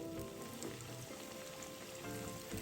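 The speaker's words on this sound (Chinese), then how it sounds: "初下锅，不要翻动，待肉片定型后，油泡变得比较小后再翻面" Steady, dense crackling and bubbling of pork belly slices deep-frying in hot oil, continuous and close, with no voices.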